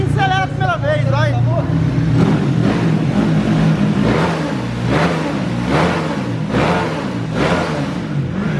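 A 70mm motorcycle engine starts for the first time and revs repeatedly on a street, the loud pulsing surges rising and falling close by while people shout and talk over it.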